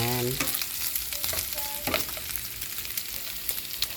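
Pork for lechon baboy fries in a pan with its fat trimmed, browning over a loud, dense crackle and spatter with frequent sharp pops throughout, close up and without speech.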